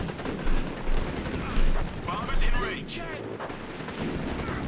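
Gunfire and grenade blasts from a Company of Heroes 3 battle around a northern victory point, with repeated low booms and crackling shots in a dense, continuous firefight; a voice talks briefly over the combat.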